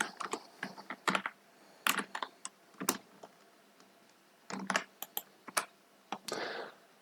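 Code is typed on a computer keyboard in irregular bursts of close, crisp key clicks separated by short pauses, with one longer key press near the end and no talking.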